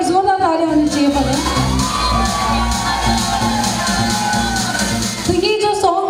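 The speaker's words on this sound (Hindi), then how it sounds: "एक बार जोरदार तालियां होनी चाहिए पर।" Crowd at a dance night cheering and whooping for the winner, loud and sustained across the whole stretch, shouts and yells layered over a steady roar with music or tones underneath.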